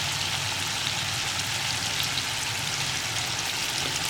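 Chickpeas fry in hot oil in a pan, giving a steady, dense sizzle that runs unbroken and fairly loud throughout, with no voices.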